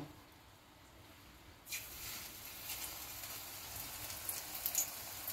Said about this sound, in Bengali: এবারে কড়াইয়ের মধ্যে তেল দিয়ে দিয়েছি, তেলটা গরম হয়ে গেছে। আমি এখন বড়াগুলো ছাড়বো, দিয়ে ভেজে নেব।